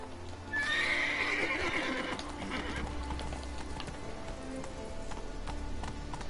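Roach, the horse in The Witcher 3, gives a loud shrill whinny near the start, then hooves clop steadily over ground with ambient game background.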